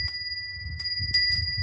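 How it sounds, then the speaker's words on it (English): A bell is rung in three quick bursts, each a bright, clear ring that sustains briefly, over a soft low rumble in the room. "let's ring the bell"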